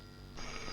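A telephone in a film scene starts ringing partway through, a bright electronic ring that cuts in loudly over a quiet room.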